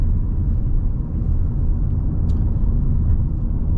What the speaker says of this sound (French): Donc le moteur est plutôt agréable.